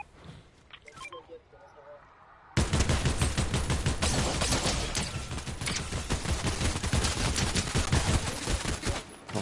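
Gunfire in the video game Fortnite erupts after a few quiet seconds into a loud, rapid, sustained volley of shots that continues to the end.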